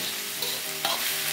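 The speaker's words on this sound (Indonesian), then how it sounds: "Nah ini kita aduk-aduk" Bitter melon and salted fish stir-fry in a pan with a steady, loud hiss of sizzling oil and a stirring scrape near the end.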